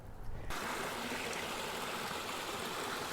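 Water from a waterfall pours steadily into a shallow area of a new backyard pond stocked with rainbow trout, a close, continuous broadband rush that starts suddenly after a brief quieter moment and holds without talk.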